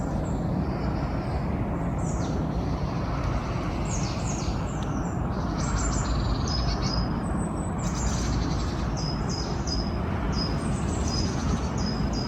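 Scattered high bird chirps and calls sound over a steady, loud rumble of outdoor noise, the birds distant and intermittent throughout.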